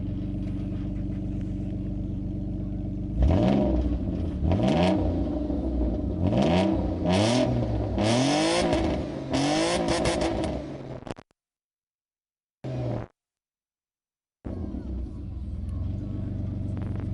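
A car engine idles, then revs hard several times in rising and falling bursts, loud and close, before dropping out to silence and a brief idle.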